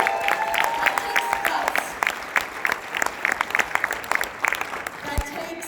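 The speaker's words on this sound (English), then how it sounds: "That deserves an applause." An audience at a speaking event in Las Vegas breaks into applause for a top trainer, a burst of many hands clapping close and loud, with individual claps standing out and fading slightly toward the end.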